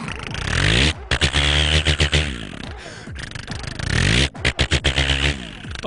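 A voice imitates a farm tractor engine, a loud, continuous throaty rumble with revving swells and brief breaks for breath, close and alone.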